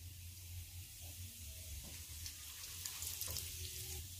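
Cumin seeds frying in hot oil in a kadai make a faint, steady sizzle with light crackles over a low background hum.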